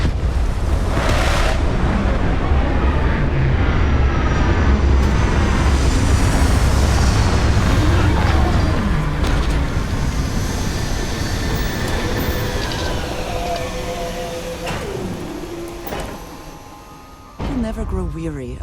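A Starfield spaceship roars in to land, a broad, loud rumbling wash that holds steady and then slowly fades, with no voices over it.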